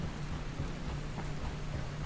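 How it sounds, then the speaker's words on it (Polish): Rain falls in the video game Dying Light, a quiet, continuous hiss of downpour with a low rumbling undertone throughout. "deszczowa pogoda"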